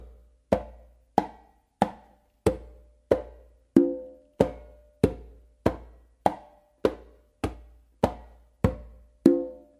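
A steady hand-drum pattern of sharp, evenly spaced slaps with ringing low tones, about one hit every two-thirds of a second, played alone and close.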